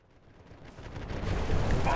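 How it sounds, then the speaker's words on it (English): Ship cannon fire during naval combat in the pirate game Republic of Pirates, a deep rumbling boom that swells from quiet to loud over two seconds and ends in a heavy, sustained roar. "The sound of the cannons is pretty solid."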